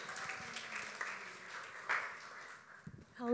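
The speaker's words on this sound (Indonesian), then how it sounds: "tepuk tangan buat Cetalin" Applause from an audience for a presenter at a talk, a broad even wash of clapping for about three seconds before fading, then a voice begins speaking.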